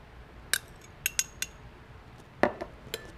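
A metal utensil clinking against a bowl while lemon juice and olive oil are stirred together, a few scattered sharp taps and scrapes, close and quiet between strikes.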